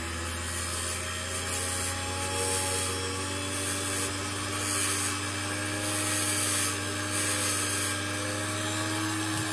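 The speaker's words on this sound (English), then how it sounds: "That's what's nice about these little grinders, is for little operations like this." A small grinder works the metal of a ratchet in repeated passes, a steady motor whine with bursts of bright, hissing abrasion on the metal, close and fairly loud, with no talking.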